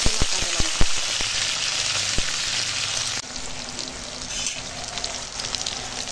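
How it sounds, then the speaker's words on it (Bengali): Onion, cauliflower and flat beans fry in hot oil in a pan, a steady close sizzle with sharp crackles and pops early on that settles into a softer, even hiss. "দেখো তেলের ওপরে পেঁয়াজটা দিয়ে দিয়েছি"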